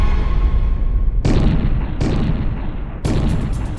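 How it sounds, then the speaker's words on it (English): Gunshots ring out in a dramatized shooting, heavy booming reports that hit in separate loud bursts about a second apart, each leaving a sustained roar, with no talking over them. "And then he opens fire."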